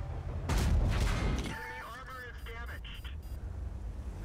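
Tank cannon fire from a VK 100.01 P in World of Tanks booms loudly once with a rumbling tail, followed by mechanical clanks and tones while a voice talks over it.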